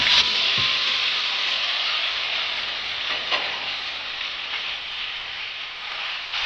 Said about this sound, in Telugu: వీటిని కొంచెం దూరగా వేయించుదాం ఇదిగో చూడండి ఈ విధంగా బాగా వేగాలి